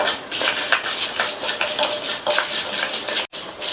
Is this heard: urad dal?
yes